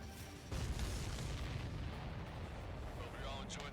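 Missile explosions in the jet combat game Ace Combat 7, a dense, continuous low rumble of blasts and booms rolling on for several seconds with a few faint higher crackles near the end.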